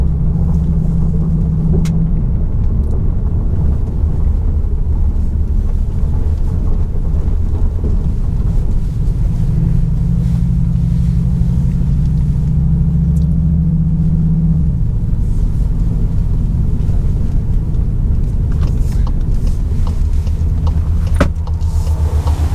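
A Cupra Formentor 310 pulling away in its sportiest drive mode, a loud continuous engine drone and road rumble that swells and shifts pitch as it accelerates, with no talk.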